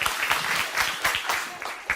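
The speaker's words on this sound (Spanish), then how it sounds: "Démosle un aplauso a Luis, que es un modelo maravilloso." A church audience applauds a man named Luis during a sermon on faith, with brisk, fairly close clapping that shows distinct individual hand claps popping out of the steady patter.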